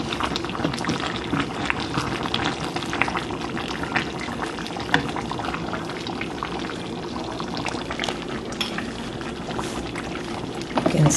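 Ekwang, a Cameroonian stew, bubbling steadily in a pot over low heat, with a dense, continuous wet simmer and crackle running evenly throughout, fairly close and with no voices.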